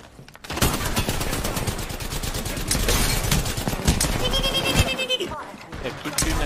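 Rapid, sustained gunfire in a video game fills the clip, dense bursts of shots with a player's voice shouting and talking over the top.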